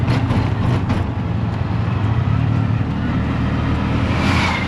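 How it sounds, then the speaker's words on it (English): A truck passes on the opposite side of a Sri Lankan road, heard from inside a moving tuk-tuk as a loud, continuous rumble of traffic and engine noise that swells slightly toward the end. "truck on the other side of the road"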